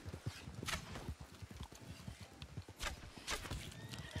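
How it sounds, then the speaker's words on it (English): Horses in a video game clip-clop with uneven hoof beats and let out occasional whinnies. Fairly faint, busy game sounds are mixed in behind them. "horses."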